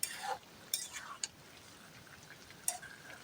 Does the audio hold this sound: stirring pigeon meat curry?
yes